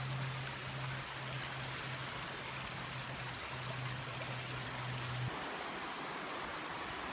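A swollen river running high after overnight rain, a steady broadband rush of water heard close and continuous on a winter woodland path, with a low steady hum running underneath for most of it.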